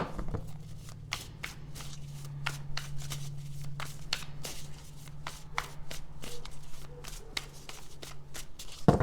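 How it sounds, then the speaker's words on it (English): A deck of tarot cards being shuffled over and over, quick papery riffles and flicks close by, with a steady low hum underneath. "I'll just shuffle a few more times here."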